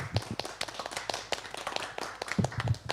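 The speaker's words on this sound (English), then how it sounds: "I'm going to give you a big clap because I really appreciate you being here today" Audience members at a book presentation give sparse, scattered claps, individual hand strikes popping out irregularly at modest volume rather than forming a full ovation.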